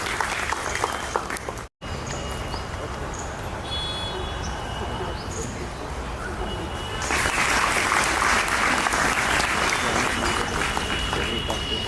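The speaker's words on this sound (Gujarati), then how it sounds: "ફરી તાળીઓથી વધાવી" An audience claps at a cultural programme of a women's teacher training college in Nadiad, honouring top-ranked students; steady applause with a momentary break near the start, then growing louder and fuller for the last several seconds.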